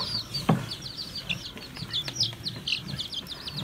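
Small chicks cheep in a steady run of thin, high peeps, fairly close, with a brief soft thump near the start and light household background noise.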